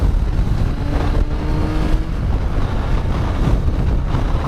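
A Yamaha FJ 1200 motorcycle fitted with a sidecar is being ridden, with a steady, large-engine drone blended with heavy wind buffeting on the microphone throughout.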